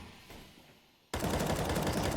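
Rapid gunfire from a Counter-Strike: Global Offensive match bursts in loud and dense after a quiet lead-in, sustained automatic shots continuing to the end.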